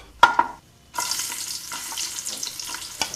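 Onions drop into hot oil with cashews and raisins for chicken biryani, a brief clatter and then a steady, loud sizzle of frying that continues with no talk.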